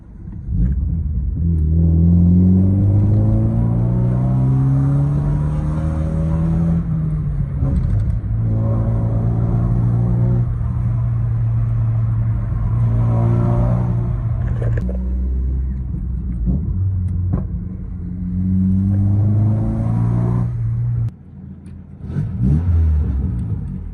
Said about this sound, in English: I just cold started my car. waiting for it to warm up.